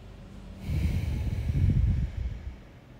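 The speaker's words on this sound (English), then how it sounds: "Take some deep breaths here." One long, deep breath drawn during a yoga squat in Malasana, close and soft with a nasal, snorting quality, rising and easing over about two seconds with no talking.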